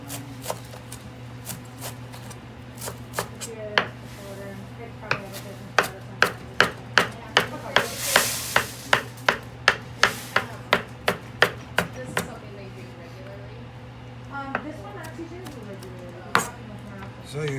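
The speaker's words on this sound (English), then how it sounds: "So you see I cut that parsley up fairly coarse" A knife chops fresh parsley coarsely on a cutting board for an apple squash soup, with sharp, close, rhythmic strikes that speed into a quick run in the middle, then slow to scattered taps.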